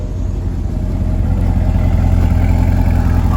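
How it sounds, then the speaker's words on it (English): A Chevrolet C8 Corvette's 495 hp V8 settles into a steady, loud idle close by, a continuous low rumble with no talk over it. "let's hear that big V8 start up. And let's just hear that idle real quick."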